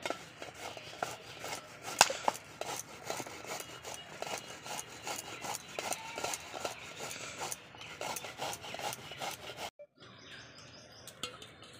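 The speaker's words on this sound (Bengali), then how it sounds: "তো এখানে কচুটা ঘষে নিচ্ছি, ধুয়ে নেব।" Taro (kochu) rubbed by hand against a grater beside a lit village stove, giving steady close scraping strokes in a busy rasping rhythm, with faint birdsong behind and a brief quieter stretch near the end.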